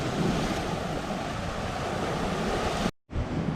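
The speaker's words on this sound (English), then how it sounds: "Some big waves coming in now, don't know where they come from." Big sea waves surge onto a sandy beach at Illetas, a loud continuous roar of surf mixed with wind buffeting the microphone, with a brief dropout near the end.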